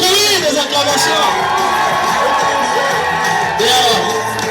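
A crowd at a wedding dinner cheering and whooping, a dense, loud wall of shouts and applause-like noise that swells near the end, with voices mixed throughout.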